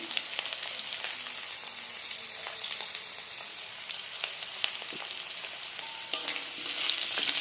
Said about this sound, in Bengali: আমাদের ডাঁটা আলুগুলো ভাজা হয়ে গেছে।